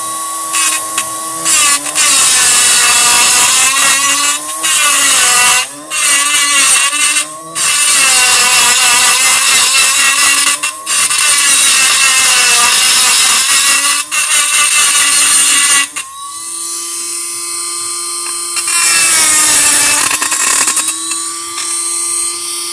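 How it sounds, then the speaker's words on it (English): A Dremel rotary tool grinds down metal grounding points on a 1970 El Camino, a loud, high, continuous whine that dips in pitch as it bites and briefly drops out a few times. "I have my Dremel tool here."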